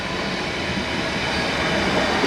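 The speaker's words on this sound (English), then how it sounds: "Right, so coming in now is going to be our train." An S8 stock Metropolitan line London Underground train arrives at Chorleywood station on an all-stations service to Chesham, a loud, steady rumble of wheels and motors close by, with no talk over it.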